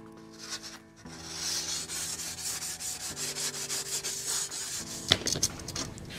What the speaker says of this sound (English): I'll grab a piece of sandpaper, just kind of round that edge over a little bit.